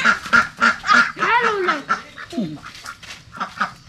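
Several Pekin ducks quack on a rural farm in El Salvador, a run of loud, close, raspy calls in quick bursts with a few drawn-out honking notes, no talk over them.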